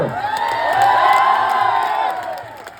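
A crowd of protesters at a rally for Sonam Wangchuk cheers and shouts loudly, the roar swelling toward the middle before tapering slightly, with scattered whoops over the dense mass of voices.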